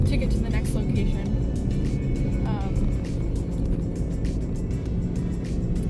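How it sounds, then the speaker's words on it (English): A car driving along a road, with a steady low engine and road rumble that stays loud and constant, and bursts of talk inside the vehicle over it. "we're just driving like 15 minutes to get to the next location"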